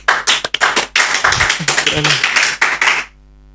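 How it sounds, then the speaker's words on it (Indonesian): A small group gives a short burst of applause for Nay Vasya Kailan on a podcast set, with close, uneven claps and voices mixed in, stopping abruptly after about three seconds. "Tepuk tangan untuk Nay Fasya Kayalah"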